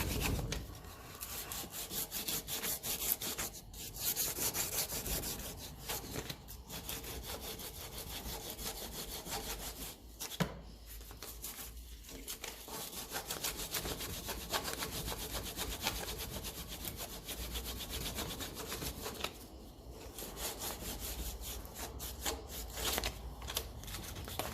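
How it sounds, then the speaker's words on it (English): Sandpaper rubs steadily back and forth on a metal bush from a 1954 Ferguson 20 TEF diesel tractor, a close, continuous rasping scrape with brief pauses. "I don't know how good this sandpaper is now"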